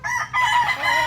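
A backyard rooster crows once, close and loud: a short, strained cock-a-doodle-doo that breaks briefly and then carries on.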